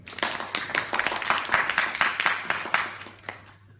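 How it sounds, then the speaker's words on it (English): Audience clapping at a talk, a fairly small group of hands producing a brisk patter of distinct claps that carries on for a few seconds, then tapers off and stops. "Big round of applause, Harry"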